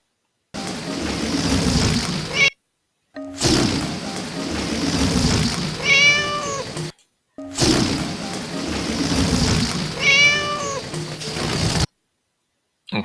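Cats meowing indoors, a few short meows rising above steady noisy background hiss and clatter, with brief silent gaps between sections and people talking nearby.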